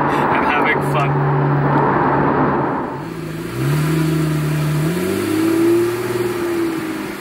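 A Porsche 991.1 GTS engine revs on English country lanes, loud and close, its pitch climbing through a gear change and then rising again under steady acceleration.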